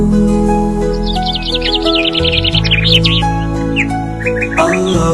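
Rapid bright sparrow-like chirps flutter in a quick run through a lullaby song, then a few sparser tweets follow, all riding over a loud sustained musical backing without singing.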